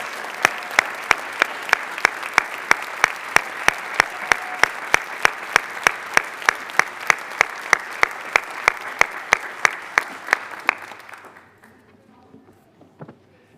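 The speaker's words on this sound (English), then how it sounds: "Let's give a round of applause for those employees with 20 years of service." Steady applause at a school board meeting for employees marking 20 years of service, with one loud, sharply even clapper punching through the crowd's wash for about eleven seconds before it drops away to near quiet.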